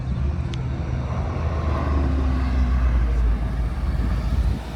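A car passing on a race track during a track-cross event, a steady loud engine roar that swells slightly mid-clip and holds, with no talk over it.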